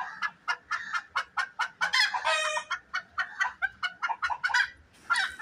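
A short-legged crested hen clucks in a quick rhythmic series of sharp, fairly close calls, with a brief pause midway and no other sound around it.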